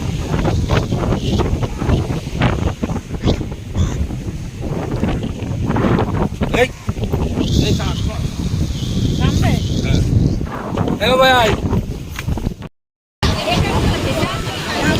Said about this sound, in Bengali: এখান থেকে দারুণ সমুদ্রের হাওয়া আর পুরো খোলা সমুদ্র দেখা যাচ্ছে